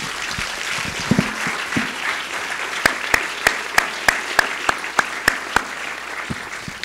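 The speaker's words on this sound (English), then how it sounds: "So please join me in a warm round of applause for all of our board chairs." Dinner guests at an executive leadership awards event applaud their board chairs, a steady wash of clapping from the room with a run of sharp, evenly spaced loud claps standing out close by.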